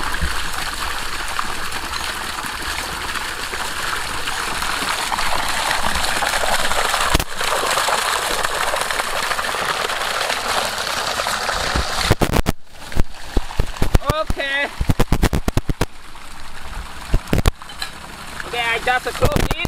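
Water gushes strongly from a siphon air-pressure water pump in a continuous loud rush, then breaks into choppier splashing bursts in the second half, with voices talking over it.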